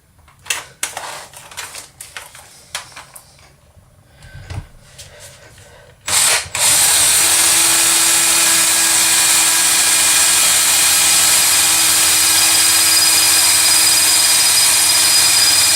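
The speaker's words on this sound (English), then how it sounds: "Just going to re-lengthen the drill bit just a tad." Power drill with a lengthened drill bit, preceded by scattered clicks and handling knocks, then a loud steady whirring run that continues unbroken to the end.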